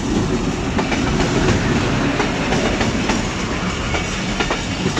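A train pulled by locomotive ZC20 6413 rolls onto the loop line at Sadhoke railway station, a loud, steady rumble with faint rhythmic wheel clatter close by.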